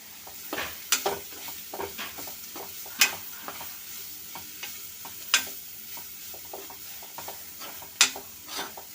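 A spoon stirs chana dal and grated coconut curry in a hot pan, with a soft sizzle underneath and repeated scraping strokes. Louder clanks against the pan sound every couple of seconds, close and with no talking.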